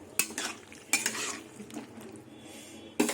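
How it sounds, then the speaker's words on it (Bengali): Boiled potatoes and green peas are stirred and sautéed in a pan for a paneer-potato pea curry, with a few distinct scraping strokes of a spoon against the pan over a soft sizzle. "আলু মটরশুঁটি একটু কষিয়ে নেবো ভালো করে"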